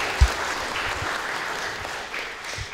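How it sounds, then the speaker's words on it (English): Conference audience applauding for the event organizers, a steady wash of clapping throughout with a sharper clap near the start, moderately close and without talk. "So maybe just a round of applause real quick for the organizers."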